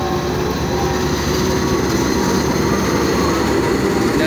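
A CC206 diesel locomotive, serving as a rescue engine, rolls past with a loud, steady, continuous rumble and rail noise that holds unbroken throughout, with no one talking.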